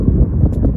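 Wind buffets the microphone on a Las Vegas golf course in a short burst of low, gusty rumbling.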